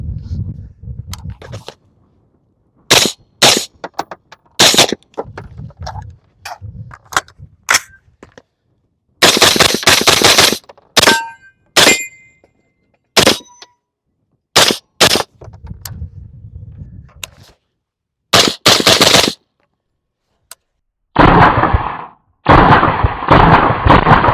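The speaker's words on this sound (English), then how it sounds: "So let's just get some shooting, man." Sharp, loud single rifle shots from a Radical Firearms RF-15 Socom MHR ring out at an outdoor range, fired in uneven bursts and singles with pauses between, ending in a quicker string of closely spaced shots.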